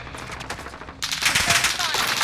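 Gunfire in the Call of Duty video game on Rebirth Island, dense rapid shots bursting loud and close after a quieter opening second, with a voice briefly under the clatter.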